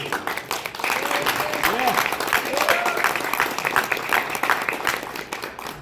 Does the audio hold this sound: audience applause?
yes